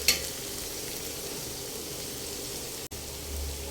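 Chopped tomatoes frying in a pan for paneer masala, a steady even sizzle close by with a brief sharp clink at the start and a momentary break near the end, no voices.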